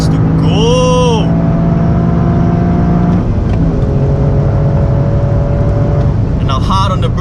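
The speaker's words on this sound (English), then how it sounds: "Turn 15, let's see, I got in second gear, powering it out." A Toyota GR Yaris powering out of turn 15 at Sepang circuit in second gear, its engine note droning loud and steady from inside the cabin, with a rising whine at the start and near the end.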